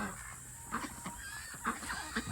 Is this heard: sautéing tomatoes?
no